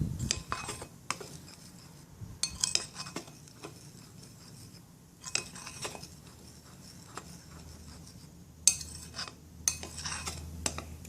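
Cacao powder being mixed into chickpea-flour cookie batter in a bowl, with a series of scraping and clinking utensil strokes coming in bursts between quieter gaps, close and without talk.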